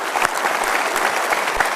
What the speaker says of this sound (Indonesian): Kita berikan tepuk tangan untuk Bapak-Bapak TNI luar biasa.